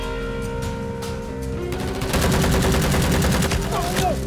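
Gunfire from a TV drama scene breaks out midway as a dense, rapid volley of shots, loud and continuous until the end, after a quieter opening with background voices.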